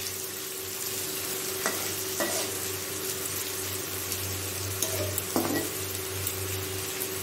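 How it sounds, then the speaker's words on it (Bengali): Onions frying gently in a pan after whole spices are tempered in oil, a soft continuous sizzle with a few faint taps of a spoon and a low background hum. "এভাবে ফোড়ন দিয়ে পেঁয়াজটা দিয়ে দিয়েছি, পেঁয়াজটা এবার একটু হালকা করে ভাজা হোক।"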